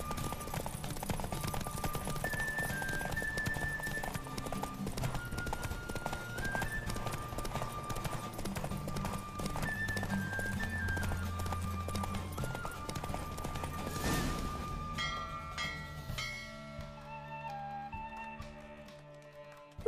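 Hooves clip-clop in a fast, steady gallop during a horse race in The Witcher 3, running continuously under game music with a sharp burst and faint whinnies near the end as the pace eases.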